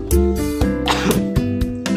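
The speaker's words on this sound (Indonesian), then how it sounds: "batuk guys." A person coughs several times in quick succession, close and loud, with short throaty bursts spaced unevenly across a couple of seconds.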